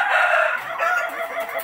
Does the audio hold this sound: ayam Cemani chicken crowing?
yes